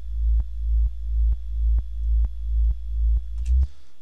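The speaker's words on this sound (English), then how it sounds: "The sub is basically just a sine wave, that's all it is." A deep, pure sine-wave synthesizer sub-bass tone pulses in a steady repeating pattern, each swell ending in a soft click, alone without any voices.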